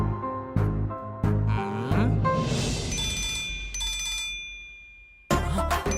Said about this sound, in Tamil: அவதான் மச்சான் எனக்கு கால் பண்றா.